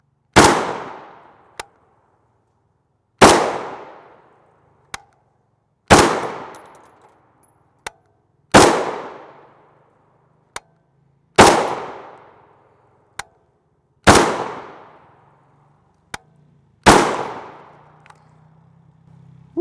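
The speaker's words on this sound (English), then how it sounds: "Got a little bit of muzzle flash off this 16 with this single port YHM brake." A 16-inch 5.56x45mm rifle with a single-port YHM muzzle brake fires eight evenly spaced, sharp, loud shots outdoors, each followed by a fading echo, with fainter clinks between shots.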